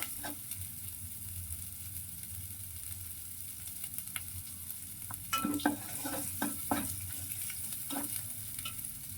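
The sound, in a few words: sautéing shrimp and bottle gourd with turmeric, chili powder, salt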